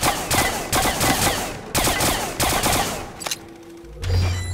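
Rapid bursts of gunfire from a laser-like weapon in the VR shooter Arktika.1, loud and dense for under two seconds at a time, with short gaps between volleys before the firing tails off into quieter mechanical sounds.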